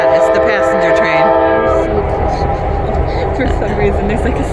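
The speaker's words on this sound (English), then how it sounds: "Oh, look at that. It's the passenger train." A passenger train on an autumn line near Chatanika, Alaska sounds a long, loud, sustained horn that fades out as rolling rail noise continues close by, with light wind and faint background voices.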